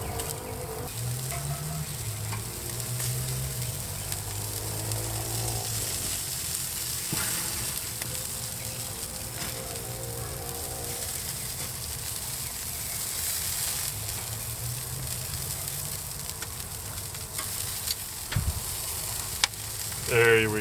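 Salmon fillets frying in a pan with a steady, close crackling sizzle that keeps up without a break, with faint background sounds and no talking.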